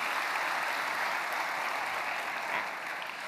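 Concert hall audience applauding steadily after a symphony orchestra performance, a dense continuous wash of clapping that fades slightly toward the end.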